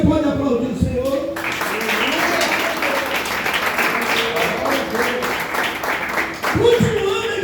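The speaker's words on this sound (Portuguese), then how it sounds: "Você pode aplaudir o Senhor?" A church congregation applauds together, with sustained crowd clapping that builds after a brief spoken line and fades into a voice near the end.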